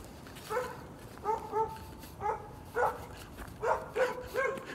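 A dog begging for food gives soft, high whimpers in short, repeated cries that rise and fall, faint and close against a quiet, hissy background with no talking.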